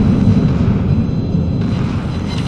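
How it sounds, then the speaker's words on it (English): Warship guns firing in World of Warships, heard as a loud, rumbling, continuous boom that sustains heavily through the low end for the whole stretch. "I fire my guns."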